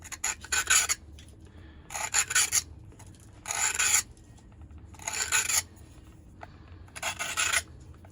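A knife blade is drawn across the new stone of a Work Sharp guided field sharpener, giving about six raspy grinding strokes in a regular rhythm with short pauses between them, close and clear, with no talking.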